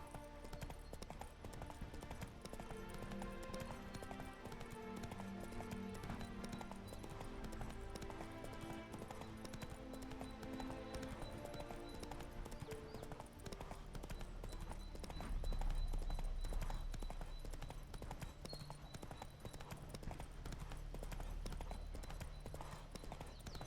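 Roach the horse galloping in The Witcher 3, a steady rapid clip-clop of hooves running under orchestral music, continuous throughout and moderately loud.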